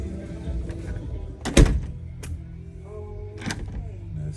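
A newly installed automatic door lock engages with a sharp mechanical thunk and brief motor whir, then a second softer latch click a couple of seconds later, close by.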